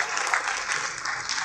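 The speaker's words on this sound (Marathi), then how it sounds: "टाळ्या झाल्या पाहिजे" Audience applause at a patriotic song competition stage event, steady dense clapping throughout, moderately loud with no pause.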